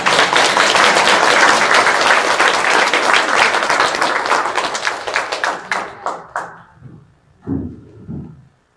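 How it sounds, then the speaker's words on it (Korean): A church congregation at a Wednesday worship service claps to welcome a preacher, a loud, dense burst that thins into scattered claps and dies out after about six seconds, leaving a few soft knocks and murmurs. "박수로 한번 환영합니다"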